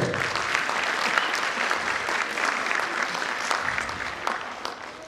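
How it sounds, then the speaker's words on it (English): An audience at a school annual function claps steadily, a full and fairly loud round of applause with individual claps standing out now and then, continuing without a break. "big round of applause for you"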